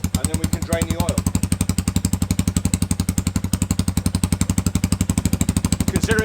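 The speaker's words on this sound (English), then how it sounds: "So I'm just going to let this idle to warm up the engine oil, and then we can drain the oil." A Kayo 230 T4 dirt bike sits idling after a year unused, its single-cylinder engine thumping in a steady, fast, even rhythm, close and loud throughout with a brief voice near the start.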